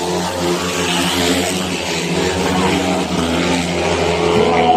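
Speedway motorcycle engines racing around a track, a steady loud droning roar with rising and falling pitch throughout, heard at close range with faint crowd or commentary underneath.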